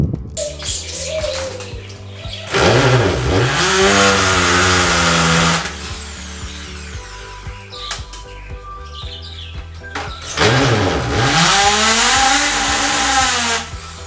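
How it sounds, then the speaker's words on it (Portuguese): A Bosch power drill whines loudly in two long bursts as it drills into a wall, its pitch sagging as it bites in, with quieter pauses between. "preparando a furadeira, bora furar aqui na parede"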